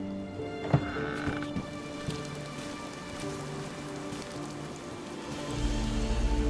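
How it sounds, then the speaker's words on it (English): Rain falling steadily in a continuous patter, with a thump early on and the downpour growing louder toward the end. "The skies had opened, and the rains were finally falling."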